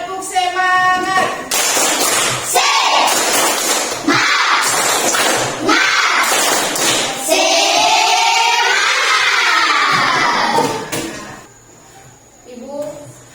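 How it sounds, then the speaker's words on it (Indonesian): Children in an Indonesian classroom doing a rhythmic spirit clap, with loud clustered bursts of clapping and chanting voices in a patterned rhythm, fading to quieter talk near the end. "kita tepuk semangat dulu ya"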